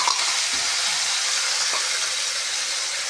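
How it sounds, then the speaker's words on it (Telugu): Curry leaf paste fries in a pan for rice, giving a loud, steady sizzle and hiss throughout with a couple of faint stirring scrapes. "ఈ పేస్ట్ అనేది మనం పచ్చి వాసన పోయిందాక వేయించుకోవాలి."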